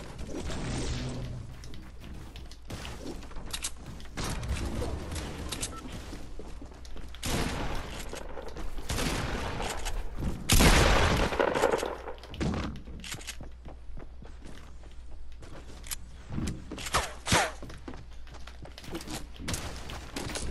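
Gunfire in a video game set around a house, with bursts of rapid shots and heavy thuds across the whole stretch, loud and dense at times.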